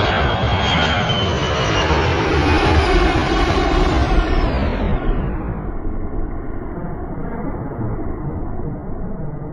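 A Chinese J-20 two-seat stealth fighter jet roars past with loud, continuous broadband jet engine noise that is steady at first, then dulls and fades slightly as the aircraft moves away.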